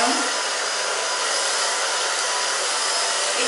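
A hair dryer on its low setting blows steadily during a short asymmetrical haircut, giving an even, loud, continuous whoosh with no break.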